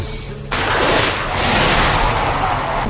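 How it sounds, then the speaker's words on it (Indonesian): A loud rushing whoosh bursts out after a brief tonal squeal, then a sustained fizzing hiss and roar carry on, like a firework rocket launching close by. "menyalakan petasan roket untuk melakukan pengalihan"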